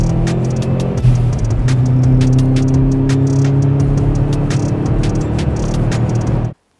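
A 1998 Subaru Impreza GT rally-style road car engine revs loudly and close, a sustained rising and holding roar that cuts off abruptly at the end.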